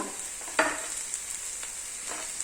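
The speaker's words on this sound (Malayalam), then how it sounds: "ചെറിയ ഉള്ളി നന്നായിട്ടൊന്ന് വഴന്നിട്ടുണ്ട് ഇതിലേക്ക് കറിവേപ്പില" Curry leaves going into sautéed small onions in a hot pan, a steady close sizzle with a brief louder burst as they hit the oil, then a few light stirring scrapes.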